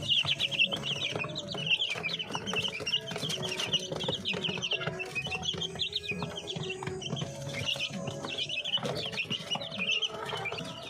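A brood of chicks and chickens, hatched from hen eggs under a duck, keeps up a dense stream of high chick peeping mixed with lower clucks nearby, loud and continuous.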